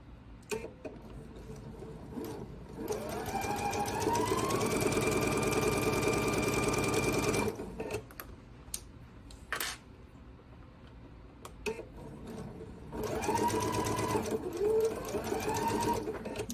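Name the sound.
sewing machine stitching quilt block pieces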